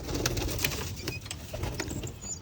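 Domestic pigeons in a home loft coo in soft, overlapping low murmurs, with a few brighter chirps and rustles above, steady and close throughout.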